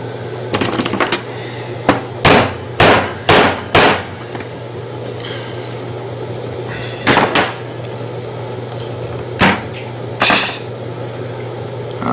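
Sharp metallic hammer blows, hammering out an old gasket from a Cremina, land in quick irregular clusters over a steady background hum, close by, with pauses between the groups of strikes.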